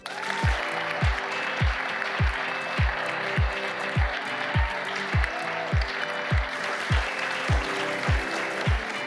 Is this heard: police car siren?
no